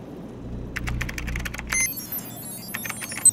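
Keys clatter on a computer terminal keyboard in Fallout New Vegas, a short burst of quick clicks, a pause, then a few more taps, close and fairly quiet.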